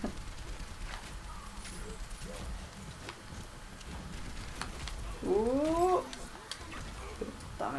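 A cat near a streamer's microphone lets out a short meow partway through, standing out briefly over faint room noise and soft handling sounds.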